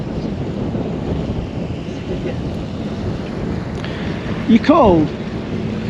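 Strong wind blows across a boat cruising the Norfolk Broads in April, a constant rough rumble against the microphone, while people speak briefly over it near the end.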